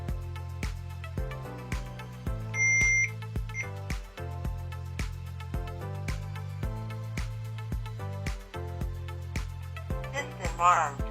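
A Hikvision AX Pro alarm system beeps steadily as it is armed, with a regular series of short electronic tones over a low hum and a brief higher chime partway through.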